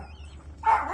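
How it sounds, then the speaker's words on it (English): A dog standing up high lets out a single sharp bark near the end, preceded by quiet low background noise. "all he wants to do is stand up there and bark."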